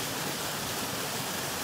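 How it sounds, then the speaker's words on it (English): Waterfall on a hiking trail, a steady broadband rush of falling water filling the whole clip, loud and continuous with no talk. "At the waterfall!"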